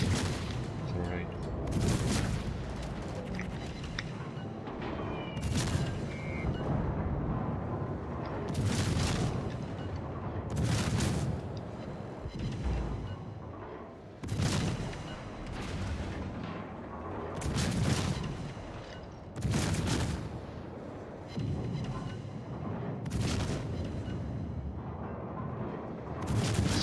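Naval guns of a Boise cruiser fire in the World of Warships video game, heavy booming salvos recurring every few seconds over a rumbling battle background, with someone talking throughout.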